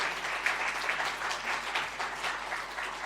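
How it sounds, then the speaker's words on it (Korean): Steady applause from a church congregation fills the room, a continuous dense clatter of clapping hands with no talk over it. "성환이 우리 한번 박수로 뜨겁게 한번 박수할까요?"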